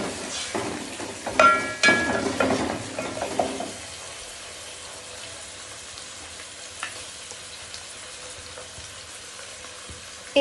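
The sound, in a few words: chicken frying and sizzling in pan for biryani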